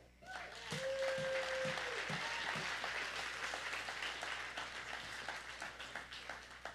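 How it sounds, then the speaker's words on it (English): Congregation at a church worship service breaking into sustained hand clapping, a dense, even wash of applause lasting several seconds, with a voice and a brief tone heard at the start. "Y'all give them a hand clap."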